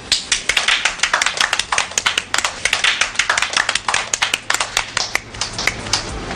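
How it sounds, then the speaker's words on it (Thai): Applause for a new deputy managing director at an office gathering, a small group clapping steadily and fairly close, the claps uneven and crisp. "ปรบมือค่ะ"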